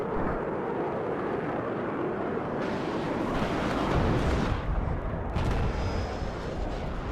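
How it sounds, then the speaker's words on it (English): Bombs exploding on an armored push in the video game Warno, a rolling barrage of deep booms and rumbling blasts over a sustained roar, swelling midway with sharper bursts, with no talk. "But we just bomb a armored push on the left side there and stall Pete."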